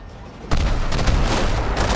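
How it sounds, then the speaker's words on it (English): Cannon fire booms out in a pirate survival video game: a sudden heavy blast followed by a dense, continuous roar of explosive rumble and crackle that stays loud to the end. "Not too far for getting smashed by cannons, though."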